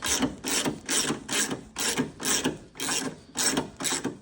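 A hand ratchet loosening headlight bolts on a 2008 Toyota 4Runner, with a steady back-and-forth run of about eight rapid clicking strokes, close and clear with no talking.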